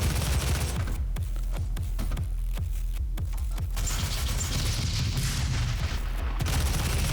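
Micro missiles fire in DOOM (2016) during the Foundry level as rapid, repeated bursts of launches and impacts. They sound like a close, loud fusillade over a constant mechanical game backdrop.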